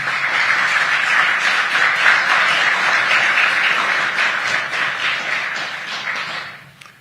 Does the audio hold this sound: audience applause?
yes